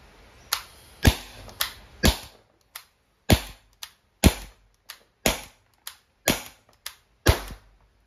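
An Umarex T4E TR50 CO2-powered tactical revolver fires about a dozen sharp, snappy pops in an uneven sequence, each crack close and loud with a quick fade and short gaps between shots.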